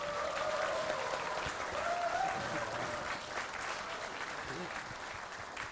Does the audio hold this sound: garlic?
no